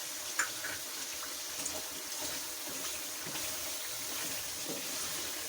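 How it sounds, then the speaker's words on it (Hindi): Steady, hissing sizzle of masala frying for haleem after a little water is added, continuous and fairly loud with no talking. "साथ ही इस पर थोड़ा सा पानी ऐड कर लें ताकि ये मसाला जो है"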